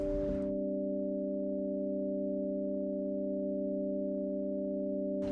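Synthesizer tone held as a steady stack of pure harmonic lines, with the envelope release lengthened to match the amplifier envelope; the note sounds alone and continuous, fairly quiet, then cuts off at the end.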